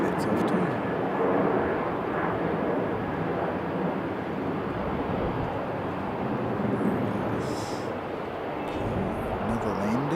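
Airplane landing on runway 36 left at Sydney airport, a broad steady engine roar heard from a distance under a talking voice, with some wind noise on the microphone.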